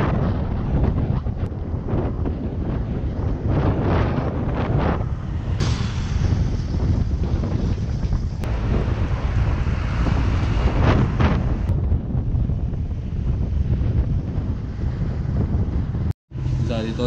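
Strong wind buffets the microphone while cycling along a road in Quang Binh, Vietnam, a loud continuous rumbling roar with gusty swells throughout and a brief dropout near the end.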